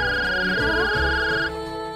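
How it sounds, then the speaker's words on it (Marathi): A phone ringtone plays in a home, a steady electronic melodic tone that holds and then fades slightly after a moment, close and prominent with no voices. "आता कोणाचा फोन आला या वेळेला?"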